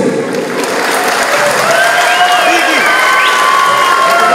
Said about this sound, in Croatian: da jednim velikim aplauzom pozdravite naše mladence Ismeta i Jessiku